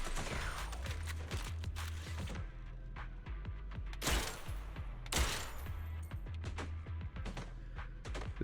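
Rapid gunfire rattles in the video game Zenless Zone Zero, with sharp, repeated shots and mechanical clicks, plus a few louder bursts standing out against a steady low game hum.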